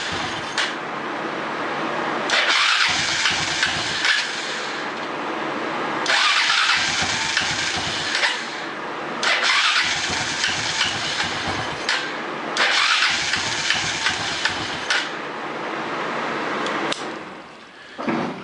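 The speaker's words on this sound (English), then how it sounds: "So it seems like it's trying to start, but it just won't run." Engine cranking repeatedly without catching, several long bursts of starter whir and churning compression separated by short pauses, close and loud, never settling into a run, no voices.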